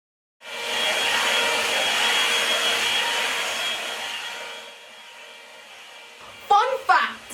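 A hair dryer blows with a steady loud whoosh, then winds down and quiets; a voice speaks briefly near the end.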